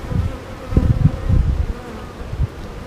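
Honeybees hum at an open hive, a close, loud droning buzz with pulsing swells as individual bees pass near, steady over about three seconds with no voices.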